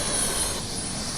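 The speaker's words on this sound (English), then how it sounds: "That's the helicopter we're going to go get on." Helicopter at a Grand Canyon helipad, its engine and rotor giving a steady, fairly loud broadband roar that holds evenly through the short moment with no talk over it.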